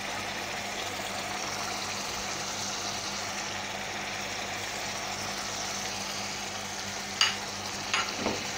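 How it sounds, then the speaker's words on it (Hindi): Coriander stirred into a tomato salan simmering in a pan, a steady low sizzle and bubbling throughout with a few soft scraping clinks near the end. "धनिया मिक्स कर लेंगे"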